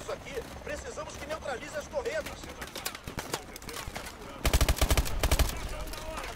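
Bursts of video-game gunfire crackle through a busy battle scene, with scattered shots early on and a dense, loud volley near the end, while a player talks over the action.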